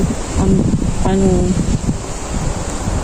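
Strong wind in Israel buffets the microphone with a constant roaring rush, while a voice speaks briefly underneath.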